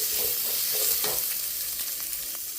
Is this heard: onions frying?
yes